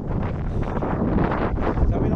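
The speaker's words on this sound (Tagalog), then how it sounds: "mahangin, humahampas ang mukha ko yung hangin." Strong wind during a Toronto snowstorm buffets the microphone in loud, gusty roaring bursts, rough and close throughout, without distinct words.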